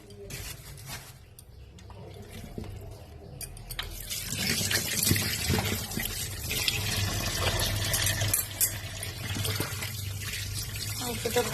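Running water splashes and trickles steadily as meat is washed by hand, with some clatter and handling noise mixed in, growing a little louder partway through.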